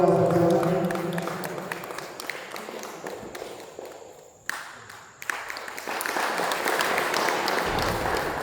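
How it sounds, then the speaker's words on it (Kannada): An audience applauds at a ceremony honouring a guest. The clapping is dense and loud at first, thins out and fades, then scattered claps and clatter pick up again toward the end. "ತಮ್ಮೆಲ್ಲರ ಜೋರಾದ ಚಪ್ಪಾಳೆ ಮುಖಾಂತರವಾಗಿ ನಾವು ಗೌರವವನ್ನು ಸಲ್ಲಿಸೋಣ"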